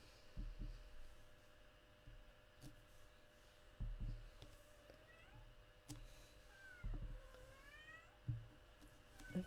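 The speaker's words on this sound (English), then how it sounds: "If you can hear my cat calling." Pet cat meowing and calling indoors, several drawn-out cries spread across the clip, fairly faint against a low household background with occasional soft knocks.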